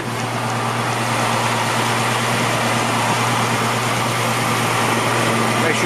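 A 1968 Ford Mustang engine runs on fast idle, giving a loud, steady, even drone with no change in pitch for the whole stretch and no voices over it.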